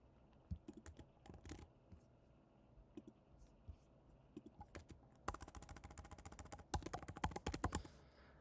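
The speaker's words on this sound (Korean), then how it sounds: "헬로월드 느낌표 두 개를 입력해 보도록 하겠습니다" Keys clatter on a computer keyboard as text is entered into a Windows program, in short irregular bursts of close, crisp clicks with a denser, faster run of typing toward the end.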